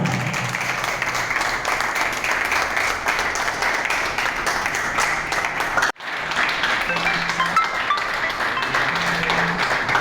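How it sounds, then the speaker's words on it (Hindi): Audience applause at a drug-free family awareness event, steady dense clapping filling the whole stretch, with a sudden brief drop near the middle before the crowd carries on. "जोरदार तालियां"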